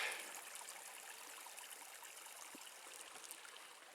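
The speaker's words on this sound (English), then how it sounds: "Nice water flowing in this creek." A creek of running water on a Yosemite backpacking route near Grant Lake flows in a steady, soft broadband rush with small trickling details, continuous and fairly quiet throughout, no voices.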